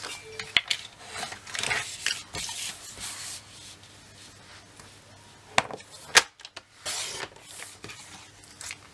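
Craft paper cut with a paper trimmer, a few sharp slicing swipes and clicks scattered between handling rustles, close up and fairly quiet, with no talk.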